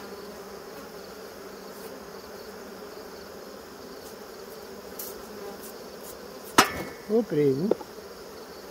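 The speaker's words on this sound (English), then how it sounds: "we're going to brush the bees off" Honeybees at an open hive as they are brushed off, giving a continuous close droning buzz with a sharp knock near the end and a brief spoken exclamation over the hum.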